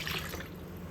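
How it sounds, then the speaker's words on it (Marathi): Water splashes and trickles briefly as it is poured into a vessel of washed mixed lentils and rice, a soft close liquid sound lasting about a second. "तर यामध्ये मी पाणी घातलेलं आहे"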